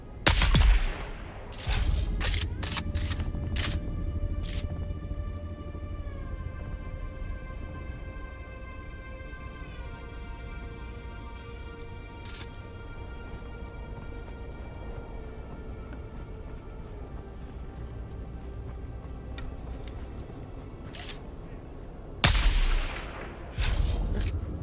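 Gunfire from the video game Dune: Awakening, with a loud opening blast and another sharp shot near the end, over steady game sound and sustained tones.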